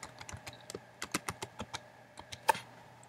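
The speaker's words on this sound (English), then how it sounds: "we're going to type in one" Typing on a computer keyboard while filling in an account sign-up form, a quick irregular run of close, crisp key clicks with brief pauses, one louder keystroke near the end.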